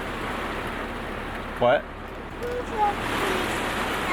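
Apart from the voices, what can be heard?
heavy rain falling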